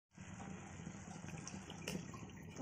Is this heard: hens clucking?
no